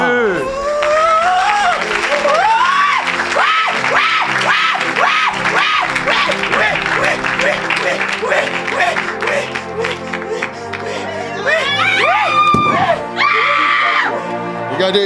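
A church congregation cheers, screams and applauds loudly and continuously, with whoops and a voice shouting over the crowd, and a burst of high shrieks near the end.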